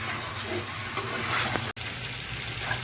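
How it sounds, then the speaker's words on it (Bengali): Spice paste for a chicken and potato curry, made with dried red chillies, sizzles and crackles steadily in hot oil in a pan, a close, constant frying hiss with one brief dropout near the end. "মশলা কষানো রেডি হয়ে গেছে, তেলও ছেড়ে দিয়েছে"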